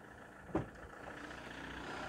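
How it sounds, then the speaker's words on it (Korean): A SsangYong Actyon Sports pickup's engine runs at a steady idle, a low, even rumble heard from nearby, with one brief knock early on. "자, 이제 엔진 소리 이렇게 들어보시면서 실내로 가볼게요"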